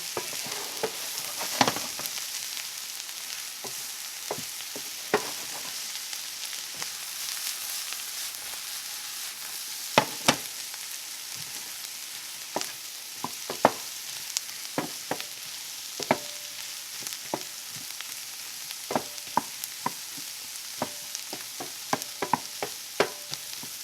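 Mushrooms sizzle and fry in a pan, a steady close hiss broken by frequent sharp crackles, pops and stirring scrapes, with no talking.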